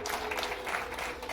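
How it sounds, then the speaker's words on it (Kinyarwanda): Parents ululating at a wedding ceremony, joined by crowd clapping, a dense continuous wash of cheering and clapping at moderate loudness with no clear speech over it. "ababyeyi bavuze impundu"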